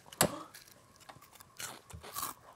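Crisp fried food bitten and chewed after cooling down, giving a few sharp crunchy bites close to the mic followed by softer crackling chews.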